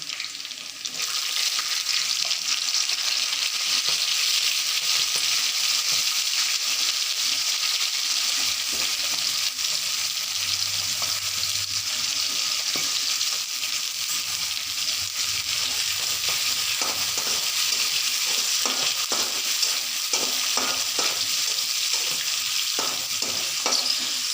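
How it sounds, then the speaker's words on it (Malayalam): Steady, loud sizzling of mustard seeds and chana dal frying in hot oil, with occasional sharp pops and stirring scrapes throughout. "കടുക് നല്ല പൊരിഞ്ഞ് വന്നത് ഞാൻ കുറച്ച് കടലപ്പരിപ്പ് ഇട്ട് കൊടുക്കണം"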